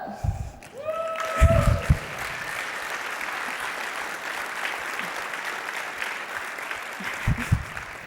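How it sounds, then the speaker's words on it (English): Conference audience clapping at a marketing and sales event, a steady crowd patter after a brief voice at the start, with a few low thumps mixed in. "I love people clapping for certified dope"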